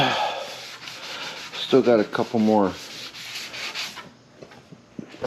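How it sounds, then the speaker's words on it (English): Steady abrasive rubbing of sanding on a 2007 Ford Crown Victoria body panel, with a person speaking briefly partway through. "I'm going to get back sanding this"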